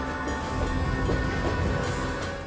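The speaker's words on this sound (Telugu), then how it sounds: "ట్రైన్ స్టేషన్ నుంచి బయలుదేరింది." A train pulls out of a station: a steady, close rumble of rolling wagons and track noise holds for the whole stretch, with a faint high squeal near the end and no voices.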